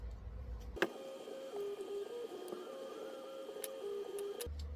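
An embroidery-style machine stitching dark gray fabric with a bead stitch, a steady whirring hum with shifting mechanical tones and occasional sharp clicks, close and even throughout.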